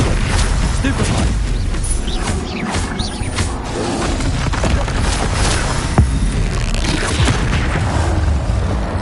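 Confringo blasting spell explosions in Hogwarts Legacy, a dense, continuous rumble of booming blasts and spell effects layered with speech, loud and busy throughout with one sharper thump near the end.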